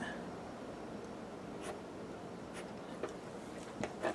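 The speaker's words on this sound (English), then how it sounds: "and draw one more line." Marker strokes drawing lines on fabric for a tie-dye shamrock pattern, a few soft scratchy squeaks close by, quiet and alone with no talking.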